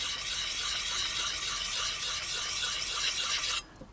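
A steady, bright rasping stroke of a beveled tool edge being sharpened, continuous and close for several seconds before stopping abruptly.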